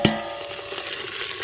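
Chopped tomatoes hit browned, frying onions in a pan with a sharp initial splash, followed by a steady, close sizzle.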